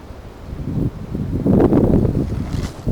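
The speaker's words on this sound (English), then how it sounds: "That's the wind I'm hearing, blowing through the trees." Wind gusts through the trees near an abandoned coal-mining ghost town in West Virginia, a low rushing roar that swells midway and then eases, with no voices.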